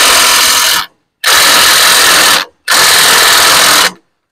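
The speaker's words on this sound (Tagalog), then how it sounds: "meron ka talaga impact wrench" Impact wrench loosening tight bolts on a Kuda Buffalo e-bike's suspension, three loud, close bursts of whirring hammering, each roughly a second long, separated by short silences.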